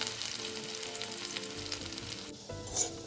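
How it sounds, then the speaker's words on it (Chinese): Potato pieces pan-frying slowly in oil for braised pork ribs, giving a steady close sizzle with light crackle throughout, a brief stir near the end. "再慢火油煎至表面微焦"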